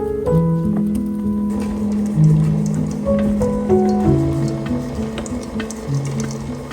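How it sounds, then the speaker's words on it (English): Cold water runs into a container for cut hydrangeas, splashing and gurgling nearby with a steadily rising pitch as the vessel fills, continuing without pause and without voices. "Just stick them in some cold water."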